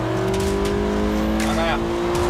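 A rally car accelerates after braking, its engine droning steadily with a sustained tonal whine close by, while a voice speaks briefly over it.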